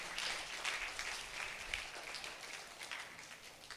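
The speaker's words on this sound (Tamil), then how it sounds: "கைத்தட்டலாமே, குழந்தைங்களை கொஞ்சம் ஊக்கப்படுத்தலாமே." Audience applause at a children's annual day celebration, steady clapping throughout, fairly faint and distant, with no talk over it.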